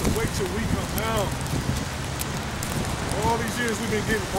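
Steady rain falling outdoors, a dense hiss of drops under people talking nearby.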